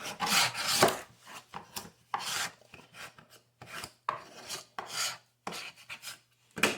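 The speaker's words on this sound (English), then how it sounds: "Then I'm going to burnish it down again." Transfer paper being burnished down onto a piece of wood for hand etching, heard as close, repeated rough rubbing strokes in irregular bursts with short pauses between.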